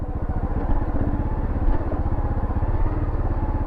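A dirt bike ridden off-road on a steep downhill trail, its engine chugging loud and close with a rapid steady pulse throughout.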